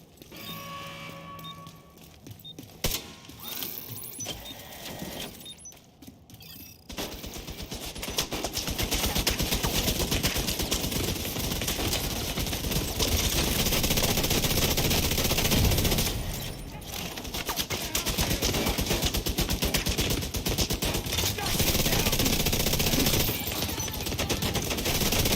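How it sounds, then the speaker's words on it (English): Sustained automatic gunfire from The Division 2 video game, dense continuous bursts of rapid shots filling most of the stretch after a quieter opening, loud and close. "Tired of shooting your lackeys."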